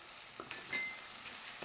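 Ground spices, roasted cumin powder, red chili powder, salt and dry mango powder, being stirred into lightly sautéed ingredients in a pan, with a soft steady sizzle and a few faint scraping clinks, no talk.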